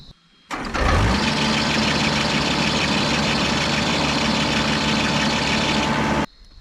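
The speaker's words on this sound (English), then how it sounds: "It is the belt, right? Why is it squealing?" A steady engine idles on and on after a brief start-up, with a loose belt squealing as a thin, constant whine over the low rumble, loud and close and running without a break, with no voices.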